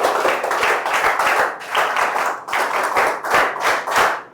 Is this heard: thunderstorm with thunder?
no